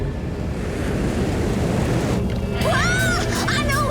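In a Dennis and Gnasher cartoon, a loud, steady roar of rushing water floods in like heavy surf. Partway through, a wavering, high-pitched cry or whistle rises over the torrent.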